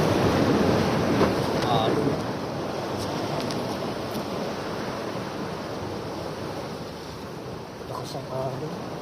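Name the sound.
strong ocean waves at night while fishing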